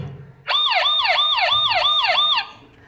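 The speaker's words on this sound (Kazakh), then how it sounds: "Жедел жәрдем" An ambulance siren wails in a fast, repeating up-and-down pattern, loud and close, starting abruptly and cutting off after about two seconds, with no talk.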